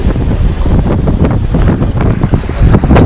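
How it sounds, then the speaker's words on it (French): Strong wind buffets the microphone at the sea in Crete, a loud, constant rumbling roar with gusting bursts throughout and no voices. "il y a vraiment énormément de vent, c'est une catastrophe"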